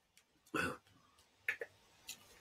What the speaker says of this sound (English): We all heard you cough.